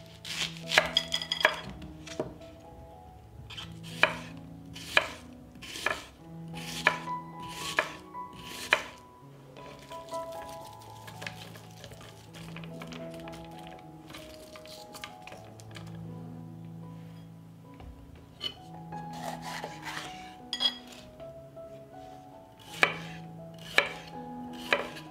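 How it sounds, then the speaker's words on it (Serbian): A knife chops one onion and three peppers on a board, rhythmic sharp knocks in quick runs with pauses, close and clear over soft background music, no voices. "iseckat ću jedan luk i 3 paprike"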